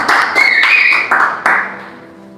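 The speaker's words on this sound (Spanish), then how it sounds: "Denle un aplauso al Señor" A church congregation claps and applauds in praise, loud close bursts with a few distinct strong claps, then trailing off as a sustained tone lingers underneath.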